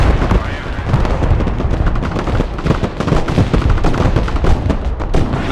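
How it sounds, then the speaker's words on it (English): Artillery fire in the war game Broken Arrow during a 5v5 match, continuous dense rumbling blasts and cracks packed together, loud and unbroken across the whole stretch. "Nice artillery going on that direct."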